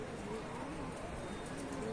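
Pigeons cooing inside a loft, low soft coos repeating steadily under a constant noisy background, with some indistinct voices nearby.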